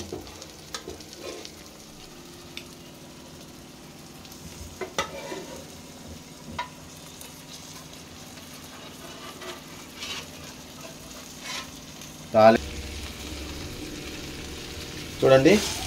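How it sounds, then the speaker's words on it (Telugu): Whole spices sizzle in hot oil for a tempering for mutton, a continuous crackling fry with occasional clinks of a spoon or pan, while a person talks now and then. "ఇప్పుడు తాలింపు చేసుకుందాం"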